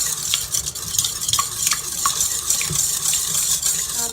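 A spoon stirs vegan pumpkin pancake batter sweetened with sugar or maple syrup in a bowl, giving continuous wet, scraping strokes close up, with soft clicks against the bowl.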